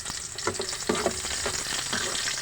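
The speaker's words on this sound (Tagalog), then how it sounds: "Magigisa na po tayo. Unahin na po natin itong sibuyas" Sliced onion sautéing in a pan for ginisang munggo, a steady close sizzle with brief stirring clatters scattered through it, no one talking.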